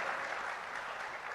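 An audience at a formal oceans dialogue conference session claps in steady, dense applause that holds at an even level throughout, with no voices heard over it.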